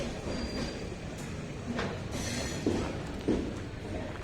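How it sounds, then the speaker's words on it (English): A crowded passenger train pulling out of a station yard in Belagavi, steady rumbling rolling noise with a couple of clanks and brief squeals of wheels as the carriages move past. "Full train went"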